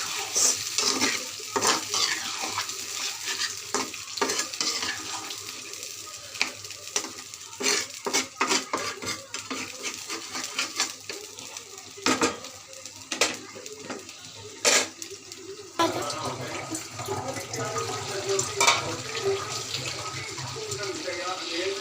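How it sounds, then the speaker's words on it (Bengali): Beef being stir-fried in a pot with a little broth added, close scraping and clanking stirs over a sizzling, bubbling base, with a wetter simmer toward the end. "ঝোলটা দিয়ে আমি আরেকটু কষাবো"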